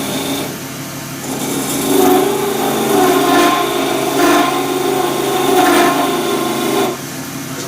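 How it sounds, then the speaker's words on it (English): A skew chisel held flat as a scraper cuts a very hard wooden barrel for a hybrid shaving brush blank spinning on a lathe. A steady, loud whirring drone runs throughout, with the scraping swelling in several broad surges. "I'm actually using the skew as a scraper. I'm not using it as a skew. The barrel is very hard."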